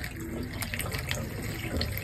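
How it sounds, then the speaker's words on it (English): White vinegar poured through a small funnel into an air handler's AC drain line, a steady close trickling and gurgling of liquid running for about two seconds. "Use a small funnel and pour 1 cup of vinegar, white vinegar,"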